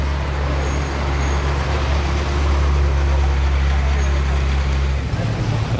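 A Ferrari LaFerrari Aperta supercar pulling away on the road, a loud sustained low engine drone that shifts near the end, with traffic ambience around it.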